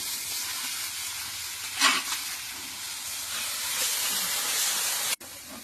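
Garlic dropped into hot oil hisses in a loud, steady sizzle with a brief stirring surge early on, holding at full strength until it stops suddenly.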